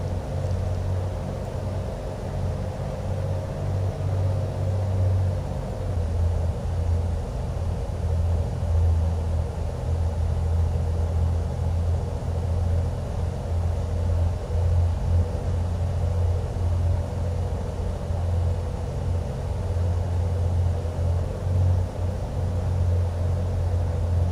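Steady low twin-engine drone of a Carenado Piper PA-44 in Microsoft Flight Simulator 2020 with throttles eased back on approach, a continuous rumble holding at an even level throughout with no talk.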